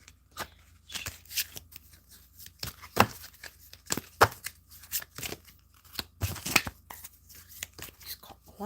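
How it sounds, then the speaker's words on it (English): A deck of tarot cards being shuffled by hand up close, with a string of crisp papery riffles and slaps coming in uneven bursts, separated by brief pauses. "I'm not the greatest shuffler. I do it like this."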